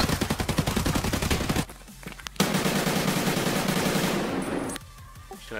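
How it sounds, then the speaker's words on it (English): Automatic weapons fire in the video game Escape from Tarkov: a rapid, loud burst of shots for over a second, a brief lull, then another long sustained volley with overlapping gunfire, ending in sharp shots. "There's like five different guns shooting at me."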